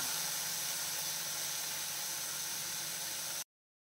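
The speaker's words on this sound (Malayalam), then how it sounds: "അപ്പോൾ മീഡിയം ഫ്ലെയിമിൽ വെച്ചിട്ട് വഴറ്റി എടുക്കാം." Green chillies sauté in a pan over a medium flame, giving a steady, even sizzle and hiss that holds at a constant level for about three and a half seconds, then cuts off abruptly, with no voices.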